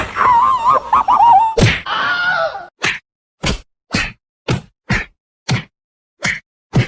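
Fight-scene punches in a Hindi film: whooshes and a groan lead into roughly nine sharp, loud thwacks landing in a steady, evenly spaced rhythm with silence between blows.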